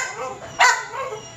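A single sharp dog bark stands out over quiet background noise, followed by faint whimpering sounds.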